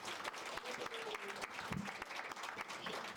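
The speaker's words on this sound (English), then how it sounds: "You should give yourselves another round of applause." Faint but dense audience applause for students at a school district event, a continuous patter of many hands heard from a distance, with a few murmured voices mixed in.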